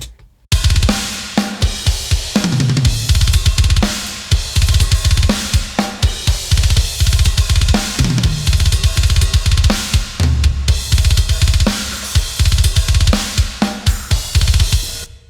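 A natural-sounding metal drum solo with an entirely triggered kick, recorded in old school tech death style. Loud, rapid kick and tom hits run under crashing cymbals in busy bursts across the whole stretch, with no voices.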